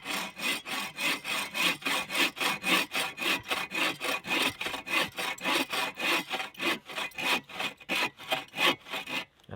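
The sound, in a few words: hand saw cutting an angled notch in a log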